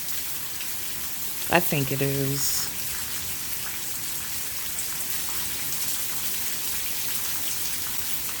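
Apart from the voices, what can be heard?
rain falling during a storm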